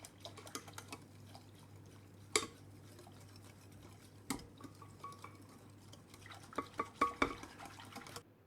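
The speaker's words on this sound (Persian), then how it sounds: "اینا رو با هم خوب مخلوط میکنم" Quiet stirring of gelatin powder and vanilla in a bowl, with a utensil scraping and clinking against the sides in scattered taps, loudest near the end.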